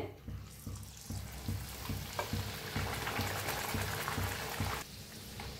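Sweet semolina puris deep-frying in hot oil give a steady, fairly faint bubbling sizzle with soft periodic knocks, and no voices.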